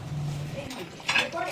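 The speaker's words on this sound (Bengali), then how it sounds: "দিয়ে দিচ্ছি ঢাকা চাপা, আরও থাকবে 10 মিনিট স্লো ফ্লেমে" A metal lid set onto a pot of simmering mutton, turned down to a low flame. One short, bright clink lands near the end, while a voice talks softly beside a low hum.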